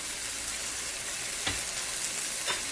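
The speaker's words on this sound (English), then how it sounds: "we're gonna give the nice stir here" Beans masala with pigeon peas frying over a high flame, a steady close sizzle broken by two brief scraping stirs of a spoon through the pan, with no talking.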